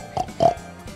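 A pig gives two short, close grunting oinks, the second louder, followed by faint snuffling.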